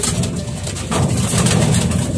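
Racing pigeon giving low, throaty coos in a close, continuous murmur with a steady hum in the background and no talking.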